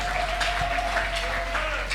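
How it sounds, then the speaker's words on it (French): A church congregation applauding at a tabernacle service, continuous clapping at moderate level with a sustained tone and voices underneath. "Applaudissons le Seigneur notre Dieu."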